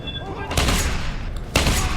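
Shotgun blasts in a video game: two loud, close booming shots about a second apart, each with a sharp crack and a short rumbling tail over game background, with a voice speaking briefly.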